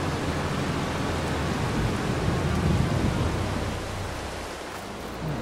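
Steady, even rain falls in Farming Simulator 22, a broad continuous wash of noise that stays loud and unbroken, easing slightly toward the end.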